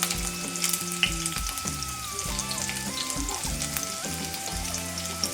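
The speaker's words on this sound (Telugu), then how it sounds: "సో నేను ఈ ఆనియన్స్ అన్నిటిని కూడా ఇంకా ఫ్రై చేసేస్తున్నా." Moon-shaped onion slices fry in hot oil for egg biryani, a dense, steady sizzle with occasional stirring, heard up close over background music.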